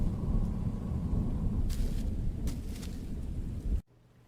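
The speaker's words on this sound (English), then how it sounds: "It's too cold outside and the rain is getting heavier by the minute." Heavy rain falls outside a house in a video game as a steady, dense, rumbling downpour. It is moderately loud and continuous, then cuts off abruptly near the end.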